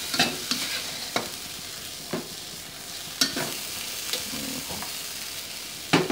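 Sautéed spices with bay leaves are stirred in a pot while cooking Cirebon-style docang, giving soft sizzling frying under irregular scraping strokes of a utensil, close and fairly quiet.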